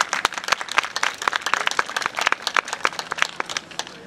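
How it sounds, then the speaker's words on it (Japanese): Concert audience at an outdoor food festival show clapping along to an upbeat song, sharp irregular handclaps from a moderate crowd, close and fairly loud, with no voices over them. "皆さんよかったら手拍子等々で一緒に楽しんでください"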